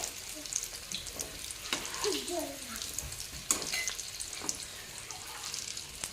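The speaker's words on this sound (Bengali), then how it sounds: "লাল লাল করে বেজে নিই" Cutlets fry in hot oil in a pan over low heat, giving a steady soft crackle with occasional louder pops and faint clinks from close by; no talk is heard.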